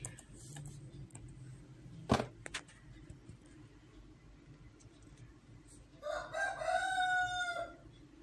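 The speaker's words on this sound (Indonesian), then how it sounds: "Itu suara ayam." A rooster crows once in the background near the end, a fairly faint, drawn-out call following a sharp click earlier and a low indoor hum.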